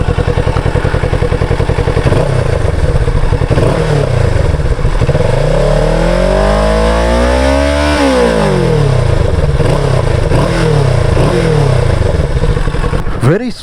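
Motorcycle engine idling with a loud, close throaty rumble, then revved up in a long rising and falling sweep before settling back to a lumpy idle with smaller blips.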